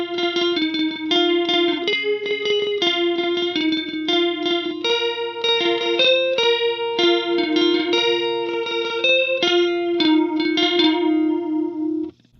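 Electric guitar melody line run through a chorus-type effect pedal in mono, a steady stream of shimmering plucked notes with a wavering, doubled tone, close and loud without any talking.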